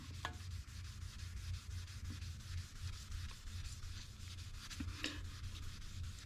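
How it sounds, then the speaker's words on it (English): Chrome side trim from a 1957 Chevy 210 four-door is polished by hand with a cloth and compound, making a continuous close rubbing, sanding-like swish that keeps going with small bumps and a few light knocks. "then just start polishing her up."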